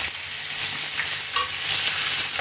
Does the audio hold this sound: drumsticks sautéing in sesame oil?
yes